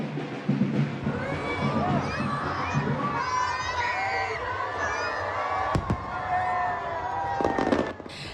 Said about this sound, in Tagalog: Sa isang engrandeng fireworks display at drone show